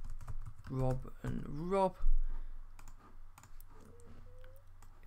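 Keys tap on a computer keyboard in short, close, light clicks while a name goes into an online survey form, following a brief spoken word.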